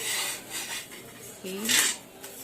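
Crisp veg tacos, toasted on both sides, being lifted from the pan onto a plate: a short run of light clinks and scrapes of utensil on cookware, close and fairly quiet, with no talking.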